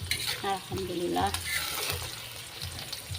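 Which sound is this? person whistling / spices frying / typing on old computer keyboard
spices frying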